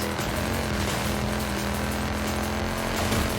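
Mercedes engine in the racing game Forza Horizon 5, a steady, dense droning roar with slight revving, sustained throughout with no talking.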